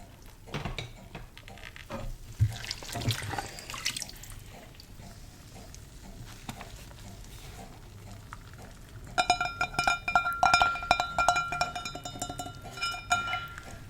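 Running tap water splashes over dishes in a kitchen sink, with wooden utensils and glasses being washed. Water runs steadily throughout, and bright glassy clinks and knocks come in clusters during the second half.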